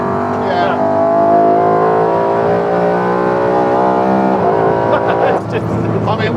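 A BMW V8-powered Mini's engine revs loudly and close, a rich, sustained growl whose pitch rises and falls, with a brief dip and catch near the end and faint voices in the background.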